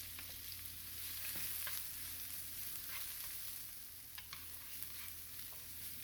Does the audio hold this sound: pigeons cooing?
no